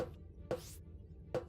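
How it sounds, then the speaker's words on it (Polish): Three sharp metallic clangs spaced apart, each with a short ringing tail, from jumping onto a metal pipe in Starbound. "Jak się skacze po tych rurach, to jest dźwięk metalowej rury."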